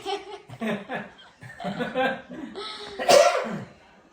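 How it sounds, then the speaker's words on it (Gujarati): Several short coughs come in bursts amid voices and some laughter, ending with one louder, harsher cough. "ઉધરસ વધી ગઈ."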